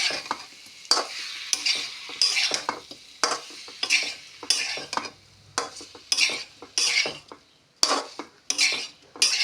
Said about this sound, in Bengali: এখন মশলাগুলি ভালোভাবে সবজির সঙ্গে মিশিয়ে নিচ্ছি।